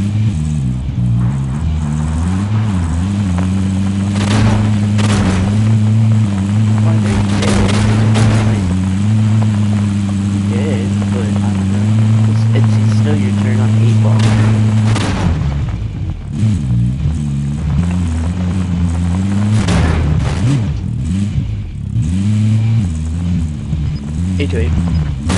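Vehicle engine in Call of Duty Warzone, a steady droning hum that holds loud and continuous throughout, shifting pitch slightly as it drives, with talk over it.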